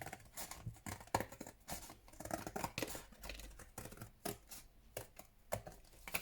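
Scissors snip through paper while the bottom is cut from a Christmas book-stack paper craft, a run of quick close crisp cuts with small rustles of paper between them and no voices.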